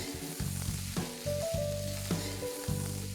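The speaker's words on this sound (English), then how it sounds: "And now I'm going to add 5 medium-sized onions. I'm going to fry this till it's nice and brown." Onions frying in oil with green chilies, cloves and green cardamom for a Bengali mutton curry, a steady close sizzle with a few stirring knocks and scrapes of the pan.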